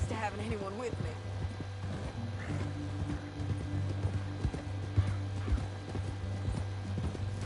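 Horse hooves clip-clopping in the video game Red Dead Redemption 2, a steady rhythm of hoof beats with a short whinny near the start, heard over a low constant hum and under talking.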